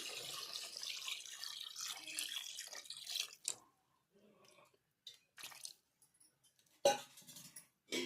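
Water splashes and trickles into a pot of cooking chicken for sambar for a few seconds, then quieter scattered clinks and drips follow with brief silences.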